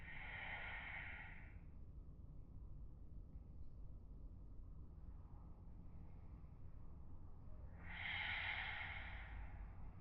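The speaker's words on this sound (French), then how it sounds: "prendre des grandes respirations" Slow, deep breaths taken during a shoulder-blade release stretch, two long breathy exhalations near the start and end with a quiet, steady room hum between.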